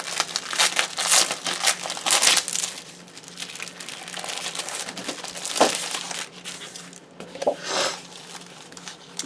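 A package of ITD rice paper is opened by hand, its wrapper crinkling and rustling in close, uneven bursts with quieter handling between them.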